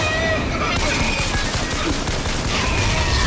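Rapid-fire gunfire in BioShock Infinite, a dense, loud, continuous rattle of shots with booming low end, close and sustained throughout, with a faint voice mixed underneath.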